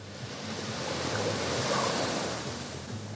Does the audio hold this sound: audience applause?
no